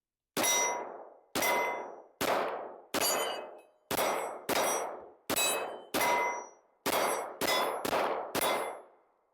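A Ruger RXM rifle fires twelve rounds at targets out to 500 yards, each sharp, loud report ringing out and decaying before the next, in a steady, slightly quickening sequence.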